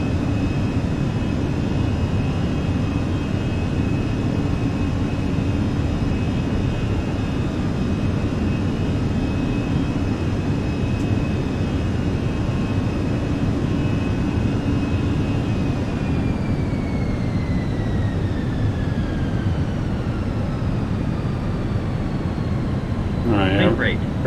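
Simulated airliner jet engines during a go-around in Microsoft Flight Simulator, a steady loud broadband roar with sustained high whine tones that bend downward near the end, continuous throughout.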